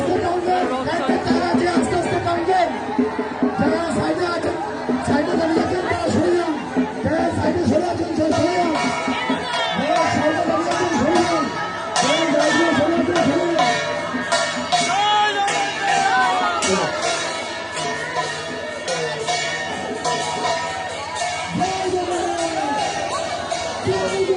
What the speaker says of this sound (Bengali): এখানেই তো কয়েক হাজার লোকের দর্শকের ভিড়